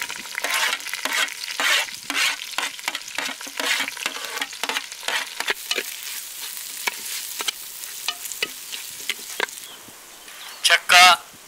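Finely chopped onions fry in oil for an Andhra-style gongura mutton curry, giving a steady crackling sizzle broken by repeated scraping stirs, close and fairly loud, with a few sharper clatters near the end.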